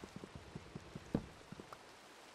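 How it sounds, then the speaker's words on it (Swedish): Scattered Minecraft rain patter, faint and irregular, with light taps spread across the clip and one slightly louder splash near the middle. "Och så regnar det."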